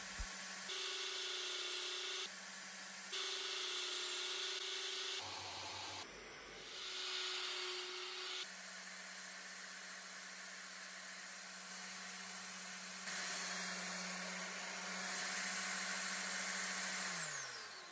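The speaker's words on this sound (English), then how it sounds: "I'll now cut a rebate on all four inside panels, which will make way for the plywood base." Power tool cutting a rebate into wooden whiskey gift box panels, a steady droning hum with a few bursts of louder cutting noise, brief pauses and shifts in pitch as the tool passes along the wood.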